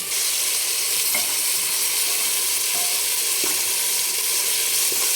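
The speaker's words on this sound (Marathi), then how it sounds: "आणि छान एक पाच मिनिट आपण तेलावर याला चांगलं परतून घेणार आहे" Mutton and spices sauté in hot oil, a loud, constant close sizzle and hiss with occasional soft stirring scrapes, no talking.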